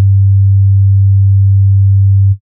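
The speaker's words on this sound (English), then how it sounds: "The most basic one is the sine wave, which in a spectrum analyzer looks like a singular tone." A synthesizer produces a pure sine-wave tone at a single low pitch. It holds loud and perfectly steady for a little over two seconds, then cuts off abruptly, with nothing else audible.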